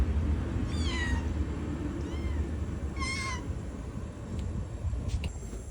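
A lost cat meows twice outdoors, a drawn-out rising cry followed by another a couple of seconds later, moderately close over a steady background hum, with no talking.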